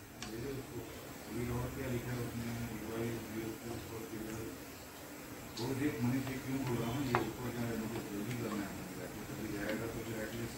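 A spoon stirs a thick mango pedha mixture of mango pulp in a pan on the stove, soft repeated scraping and faint sizzling under steady background, with a voice talking.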